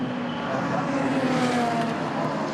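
Racing cars, including 3 Series BMWs, circling Brands Hatch in a Supercar Challenge race, with a steady loud engine roar holding throughout and faint commentary over it.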